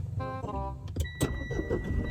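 A car is started with its push button: a brief rising electric whir of the starter, then the engine catches and settles into a close, steady idle.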